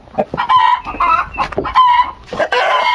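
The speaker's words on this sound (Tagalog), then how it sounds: "Iingay ng mga manok." Chickens cluck and crow close by in a backyard fruit garden, a busy overlapping chorus of short squawks and calls that fills the whole moment.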